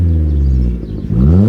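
A 1.2 Vauxhall Corsa with an aftermarket exhaust revs close by, its loud droning engine note dipping briefly and then climbing again in pitch.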